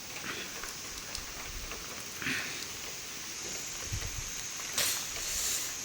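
Rain falls steadily outside a house after heavy rainfall, a soft continuous hiss with scattered louder patters and a brief stronger burst near the end, no voices present.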